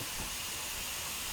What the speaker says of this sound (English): Bit of leaky steam coming from under there, that's nice.